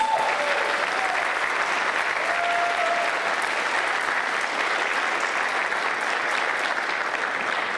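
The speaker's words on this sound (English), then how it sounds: "Let's give them one more round of applause." Loud, sustained applause from a large crowd at a school event, a steady roar of clapping that continues without a break.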